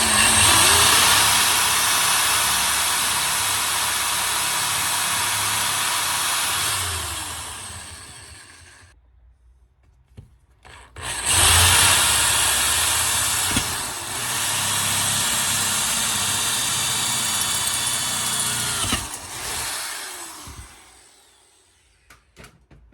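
A power drill bores a pilot hole through metal conduit on a camper support, running in a loud, steady whine for several seconds, stopping, then starting again for a second long burst before cutting out.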